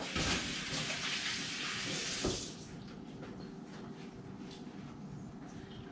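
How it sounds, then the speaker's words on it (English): Tap water running in a kitchen while hands are rinsed, a steady close hiss that is loud at first, then drops to a quieter flow after a clunk of the faucet. "Give my hands a quick rinse."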